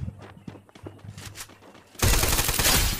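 Rapid automatic gunfire in a shooting video game, a few scattered shots and footsteps first, then a loud continuous burst of fire for the last second, with no talking over it.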